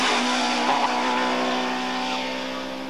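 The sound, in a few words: Audi 50 and VW Polo race cars driving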